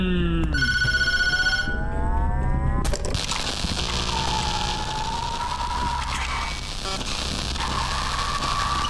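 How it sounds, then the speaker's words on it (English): Telephone ringing in the horror game Tattletail, a brief burst of harmonic rings near the start, then giving way to a loud, noisy rumble of game sounds with droning tones for the rest. "Hint, don't answer the phone."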